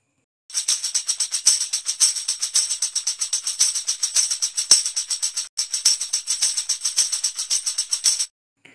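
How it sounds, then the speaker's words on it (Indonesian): A tambourine shaken steadily in rapid rhythmic bursts, bright jingling from its metal discs sounding close and fairly loud, with one brief pause midway before it continues and then stops. "Lalu yang ini namanya tamborin."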